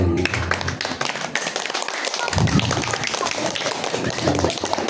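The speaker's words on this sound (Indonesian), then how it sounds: "Tepuk tangan dulu aja." An audience at a Sundanese Isra Mi'raj religious lecture claps together in a dense, steady patter that carries on for several seconds, fairly close and a little uneven.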